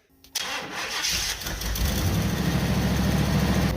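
After a brief click, a truck engine with a repaired exhaust pipe cranks and catches, then settles into a loud, steady rumbling idle.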